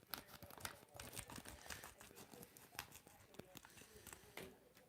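A sealed bag of Plissken Home Blend pipe tobacco is handled and cut open with scissors, giving steady close crinkling and tearing of the packaging with small snips and rustles, while faint voices or a televised football match murmur underneath.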